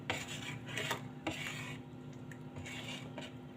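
Spoon scraping and stirring a thick gram flour and yogurt batter in a bowl, steady close rubbing strokes with a few light clinks against the bowl's side, alone and fairly quiet.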